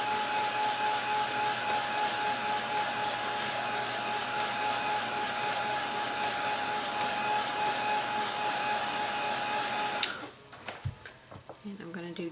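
A hair dryer blowing to dry acrylic paint on a Christmas candle ornament, a loud steady whirring drone for about ten seconds before it clicks off, followed by faint handling noises.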